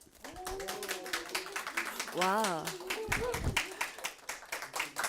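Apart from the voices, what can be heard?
audience applause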